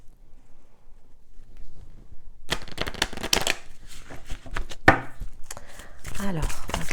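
Oracle cards (Oracle de lumière deck) being shuffled by hand, a quiet rustle at first, then a loud dense riffling flutter from about two and a half seconds on, with sharp card slaps near the end.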